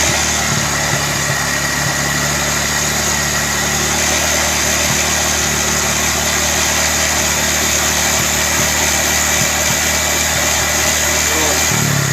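A Honda Vario 150 fuel-injected scooter with its red warning light on runs steadily near the listener, a loud continuous engine drone with little change in pitch, while a voice calls out short instructions over it.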